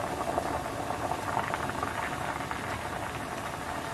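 Tomato sauce simmering in a pan for pasta alla Norma, a steady low bubbling burble with a faint continuous rattle, close and unbroken, no talk.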